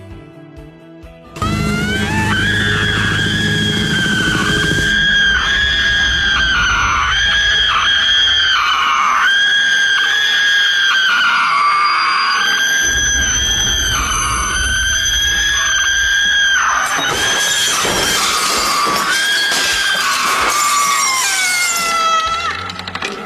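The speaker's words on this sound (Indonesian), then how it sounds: "Cui Hua mulai mengepalkan tangannya, dan berteriak dengan keras" A woman screams loudly and at length at a casino roulette table, her shrill cries rising and falling in waves over a busy, noisy room, close and dominant throughout.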